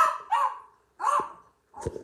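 A dog barks three times, sharp and fairly close, each bark separated by a short pause in an otherwise quiet room.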